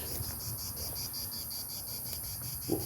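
A cicada's shrill, steady buzzing drones continuously at moderate distance, pulsing slightly, with a faint knock near the end.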